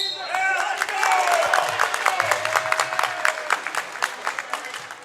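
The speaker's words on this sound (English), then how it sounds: "breakaway dunk as you just see, getting the crowd all excited right there" A basketball crowd cheers and applauds after a breakaway dunk, a dense burst of claps and shouts with sneaker squeaks, moderately close and fading slightly, with a voice talking over it.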